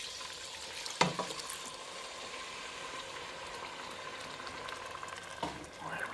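White wine poured into a hot pan while cooking rabbit in a cream and mustard sauce, giving a steady soft sizzle and bubbling throughout, with a couple of clanks of pan or utensil.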